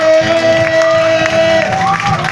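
A church congregation at a Pentecost service cheers and claps loudly, a dense wash of crowd noise with a sustained tone running underneath throughout.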